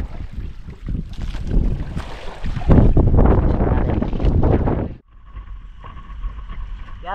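Strong wind buffets a boat at sea over low, choppy waves, rumbling loudly into the microphone for about five seconds, then easing to a quieter hum with a faint steady tone.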